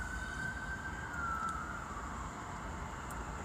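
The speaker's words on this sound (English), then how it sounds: "The sirens in the background," Emergency vehicle siren wailing faintly in the distance, a steady sliding tone that drifts slowly downward over a constant background hum, with no voices present.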